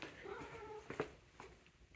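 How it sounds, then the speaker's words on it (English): Elderly cat making soft chirpy trills and brief meow-like calls, a few quick chirps at low volume in a quiet room, no talk. "my elderly cat's doing a lot better now, as witnessed by her making her chirpy noises"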